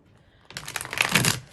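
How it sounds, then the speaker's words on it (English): Tarot cards being shuffled close by: a brief quiet pause, then a rapid flurry of crisp riffling card flicks lasting about a second, with no talking. "Give a couple more shuffles and then we'll get into the cards."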